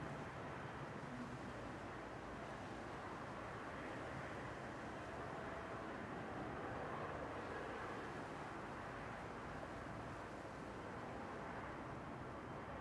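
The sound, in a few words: Emirates airliner moving at Manchester Airport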